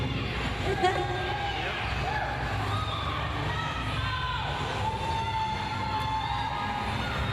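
A roller derby crowd of Fox Cityz Foxz Scream Puffs fans cheers and shouts in a loud, sustained roar, with an announcer talking over the din.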